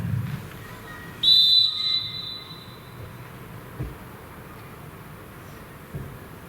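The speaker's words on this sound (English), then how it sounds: "which will begin on the referee's whistle" A referee's whistle at a Spennymoor Town versus Curzon Ashton football match sounds one clear, fairly loud blast of about a second, signalling the start of a minute's silence over a quiet stadium hush.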